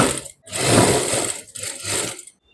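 Sewing machine stitching a shirt's shoulder joint, running in two loud, close whirring bursts of rapid needle clatter separated by a short pause, then stopping.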